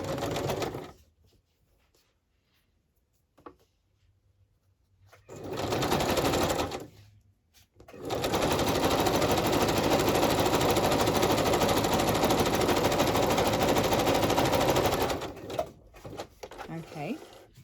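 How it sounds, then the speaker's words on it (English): A sewing machine zigzag-stitches a piece of junk mail onto a page, running in a short burst, stopping, then humming in a long steady run before halting; a voice talks in the quiet gaps. "And so I'll zigzag down there, and then that will hinge onto a page. I don't put any glue, I just stitch it."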